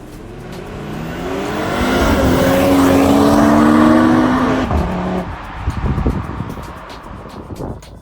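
A BMW M340i and an Audi RS3 in a rolling-start race: loud engine roar climbing in pitch as both accelerate hard, peaking midway, then receding and thinning out, with faint tire noise toward the end.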